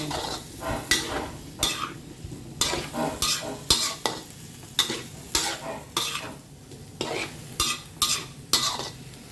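Pork pad cha, spicy Thai stir-fry with oyster sauce, being stirred in a hot pan: a steady sizzle broken by repeated scraping strokes of a utensil against the pan in an uneven rhythm, close and moderately loud.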